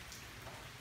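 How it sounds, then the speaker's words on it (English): Steady rain falling outdoors, a dense, even hiss of drops spread across the whole short stretch with no voices or other sounds. "It's raining."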